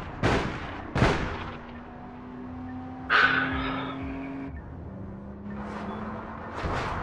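Gunfire in the online shooter APB Reloaded: two sharp, loud shots near the start, another burst around the middle and a final report near the end, spaced apart over a steady low engine-like drone, with no talk.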